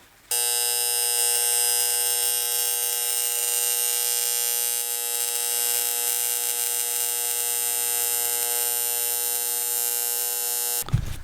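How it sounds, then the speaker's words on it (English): TIG welding on a Mustang gives a steady, close electric buzz with a tonal hum that holds almost unchanged for about ten seconds, then cuts off. "I started welding this one."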